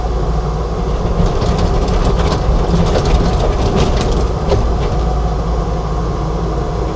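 A Bobcat T770 compact track loader with an LT313 trencher attachment runs at raised throttle while installing horse arena drainage, a loud, steady diesel roar and churning rumble that continues unbroken with no talk.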